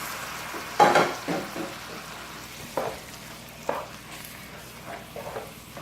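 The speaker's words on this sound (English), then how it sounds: "We're adding our tomatoes to this." Tomatoes hit sizzling ground beef in a pan for a lasagna ragu, giving a loud burst of frying near the start. A lower sizzle and scattered stirring scrapes follow, with no talk.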